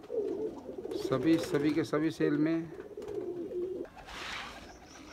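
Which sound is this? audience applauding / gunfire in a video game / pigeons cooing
pigeons cooing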